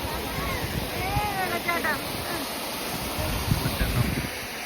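Waterfall on the Munnar Gap Road, a steady broadband rush of falling water filling the scene, with brief faint voices of children and passersby rising above it now and then.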